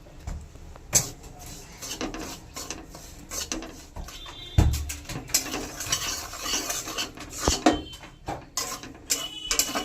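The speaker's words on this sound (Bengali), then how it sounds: "এক বাটি সুজি নিয়েছি, সুজিটা ভেজে নেব" Semolina lightly dry-roasted and stirred in a pan for a jackfruit-leaf cake, the spoon scraping and clinking against the pan in close, busy, uneven bursts with no talking.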